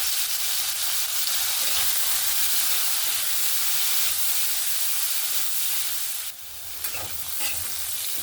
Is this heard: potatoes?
yes